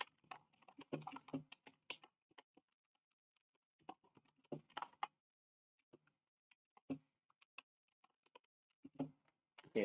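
Computer keyboard being typed on, quiet clusters of quick key clicks in irregular bursts with gaps between them, close but soft, with no talking.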